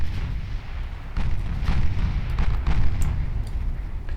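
12-inch naval guns fire in the Ultimate Admiral Dreadnoughts warship game, a continuous deep rumbling barrage with several heavy booms rolling into one another, loud and close.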